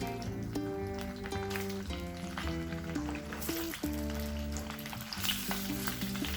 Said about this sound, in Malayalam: ആ എണ്ണയിൽ തന്നെ ഈ മുട്ട ഒന്ന് ഫ്രൈ ചെയ്യാം